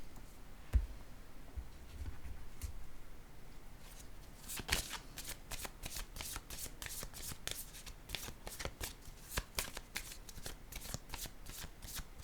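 Playing cards are laid down and handled on a table, a faint close series of crisp flicks and taps that quickens into a rapid patter of card snaps after a quiet start.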